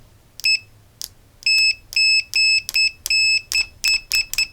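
Rapid beeps from an ANENG SZ202 digital multimeter in continuity mode, about ten short high-pitched tones of uneven length sounding in quick succession, clear and close with no talking.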